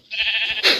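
A Minecraft sheep gives a single short, bright bleat, loud and close, heard alone without talk.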